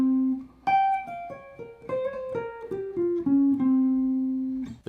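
Electric guitar picks a fast descending lick over a stretched chord voicing, a quick run of clean single notes that ends on a held tone, played alone and fairly quiet.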